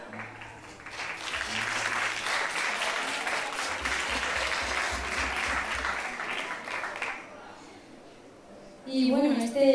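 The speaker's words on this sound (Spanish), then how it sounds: "vamos a dar un fuerte aplauso para esa gran que se está preparando con la mandolina" An audience claps steadily for several seconds for a performer preparing with a mandolin at a live concert, then the applause fades into a brief stretch of quiet before a voice starts speaking.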